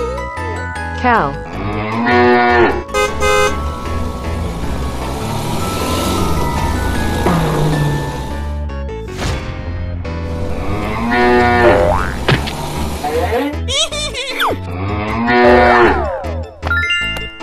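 Cattle mooing loudly and repeatedly, long drawn-out lows following one after another, close and prominent over a busy background.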